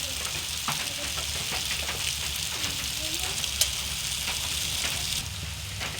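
Soybean chunks sautéing with cumin in a pan, a continuous close sizzle and crackle with scattered stirring scrapes and one sharp clink near the middle, no one speaking.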